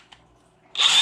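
A DeWalt DCF899M1 impact driver switches on after a near-silent stretch and runs at low speed, a loud steady whir that holds to the end.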